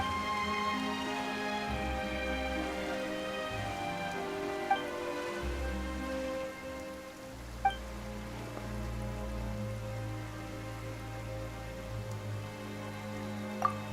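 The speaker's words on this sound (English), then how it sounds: "Why is it raining all of a sudden?" Steady rain falls in the video game Genshin Impact as a continuous hiss, mixed under tonal background music. A few faint drip-like ticks stand out, and no one speaks.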